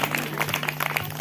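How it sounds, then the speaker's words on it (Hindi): A congregation claps during a Hindi Christian worship sermon, producing a brief, steady patter of many hands at moderate volume. "आमीन बोलो और ताली बजाओ प्रभु के लिए"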